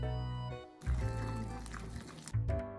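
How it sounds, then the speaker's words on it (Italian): Half a ladle of water is poured into a mix of olives, capers, mayonnaise, olive oil and tuna. It makes a short liquid splash and gurgle between steady background hum. "Mezzo mestolo d'acqua."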